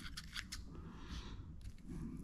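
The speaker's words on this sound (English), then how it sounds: "I'm just gonna cut it all off with these scissors." Scissors snip hair off a bucktail fishing jig, giving several quick, crisp cuts close to the microphone over a low, quiet background.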